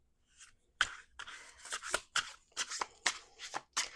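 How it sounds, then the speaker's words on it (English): Crisp, rapid riffling bursts of cards being shuffled, several quick sharp flurries in a row, close and fairly quiet, with no talking. "Two more shuffles."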